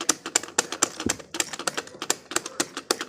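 A toy typewriter built from Lego bricks types in rapid, irregular clacks and taps, a dense run of sharp mechanical keystrokes close by, with no talking.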